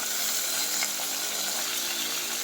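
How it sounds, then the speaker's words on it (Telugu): Onions and drumsticks (moringa pods) frying in oil in a pan, a steady broadband sizzle that stays loud and even throughout with no voices. "ఉల్లిపాయలు మునక్కాయలు ఇవన్నీ బాగా ఫ్రై అవ్వాలండి"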